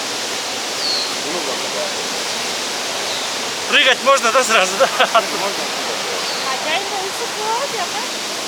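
Waterfall in Chichkan, Kyrgyzstan, a steady broad rush of falling water filling the whole scene from start to finish, with people talking close by over it partway through.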